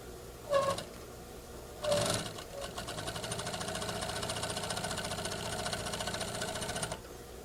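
A sewing machine back stitches a pocket onto a skirt through the seam allowance: two short bursts of stitching, then a steady mechanical run of several seconds before stopping.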